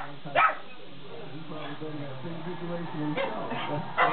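Dogs on a televised dog show bark and yip through a TV speaker in a few short, sharp bursts, with a person talking over the broadcast throughout.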